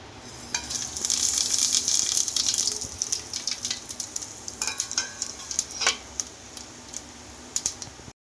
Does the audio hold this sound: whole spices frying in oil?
yes